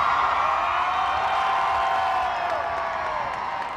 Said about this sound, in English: the crowds cheering on the Queen today